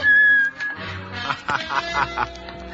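A man whistles a short familiar signal tune, a few bright warbling notes followed by clipped chirps, close and fairly loud.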